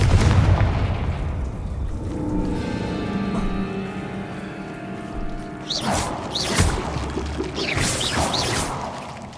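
A fire-blast spell explodes in the video game Hogwarts Legacy, a loud booming burst with a pouring, crackling rumble and sharp bright hits later, all close and without any talking.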